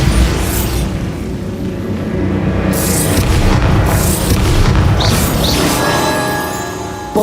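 A magical Bombarda explosion spell in Hogwarts Legacy booms and crashes loudly, followed by a sustained heavy rumble of debris that holds for several seconds before tailing off, with no talk.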